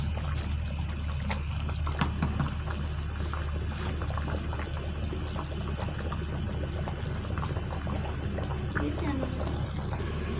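Rice boils in a pot of water for tandoori chicken biryani, a low, steady bubbling and simmer with small pops throughout, and a voice talks faintly over it now and then.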